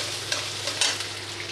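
Onions fry in hot oil for crispy fried-onion garnish, a bright continuous sizzle broken by a few scraping stirs of the spatula, close and clear with no speech.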